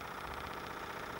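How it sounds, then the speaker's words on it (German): A small electric motor, part of a Joseph Newman machine demonstrated in 1987, runs with a steady, continuous whirring hum at close range, holding an even level with no voices. "Such a small motor."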